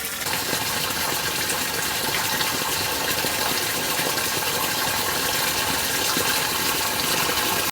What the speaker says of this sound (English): So that is our test/drain discharge point on the side of the building here.